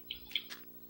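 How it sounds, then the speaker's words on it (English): A Minecraft bird gives three quick, bright chirps in a row, small and clean against a faint hum of game ambience, with no one speaking. "Look at this bird."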